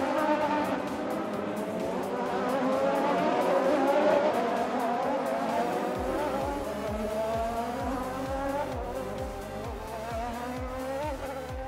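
Anki Overdrive magnetic toy race cars buzzing around a track, a steady whirring drone of small motors with rising and falling pitch, joined partway by a rhythmic clicking pulse, continuous and fairly close.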